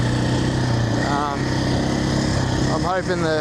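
The engine of a 2025 KTM Champion Edition motorcycle drones steadily and fairly loud beneath a rider's voice, with a short rise in pitch near the end.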